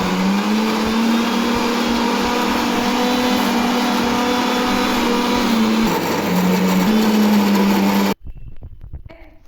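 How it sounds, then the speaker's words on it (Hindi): Kitchen mixer grinder grinding cooked chicken and rice into dog food, a loud steady motor whine running for about eight seconds with a slight pitch shift midway, then cutting off abruptly to faint background noise. "ये निकाल दी मैंने मिक्सर, ये इनकी डाइट का खाना, चिकन चावल है, डालो इसको हम करते हैं ग्राइंड"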